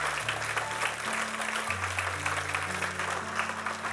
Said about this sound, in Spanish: Dale un aplauso fuerte,